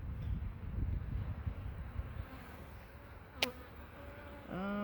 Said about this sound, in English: I've still got one angry bee from that first hive that's buzzing my head.